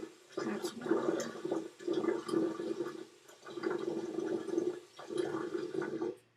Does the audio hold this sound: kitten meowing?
no